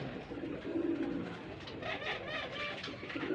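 Pigeons coo steadily at a pigeon farm with Kaldom birds, a low continuous cooing chorus filling the short stretch with no talking.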